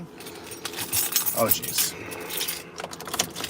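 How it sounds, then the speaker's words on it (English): Car keys jangle and clink close up as they are fitted into the ignition, with irregular metallic rattles over a few seconds. A voice makes a brief remark partway through. "Oh, I didn't even put my keys in the ignition."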